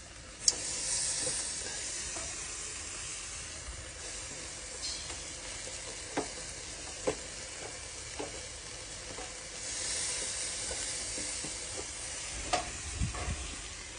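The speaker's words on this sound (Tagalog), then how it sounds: "So mag-ihaw-ihaw muna kami rito." Pork and chicken sizzle on an outdoor grill, a continuous crackling hiss with scattered pops and clicks of handling throughout.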